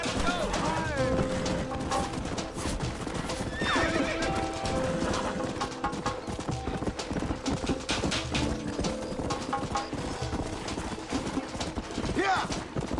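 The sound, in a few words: horses galloping and neighing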